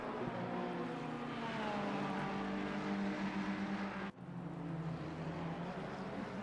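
Race car engines, including a Ferrari, at Misano in a racing simulator: a sustained high droning rev with shifting pitch, briefly cut by a gear change, then resuming steadily.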